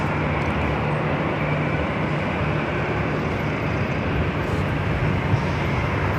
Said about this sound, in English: This flight heading to Vegas, Delta Airlines Flight 1696. It's A321 Neo.